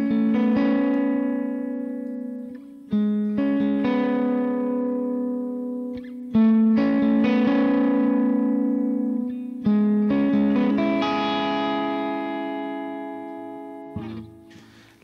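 An electric guitar plays the intro of a song, sustained clean notes and chords sounding in long ringing phrases with reverb, close and loud, with no voice over it.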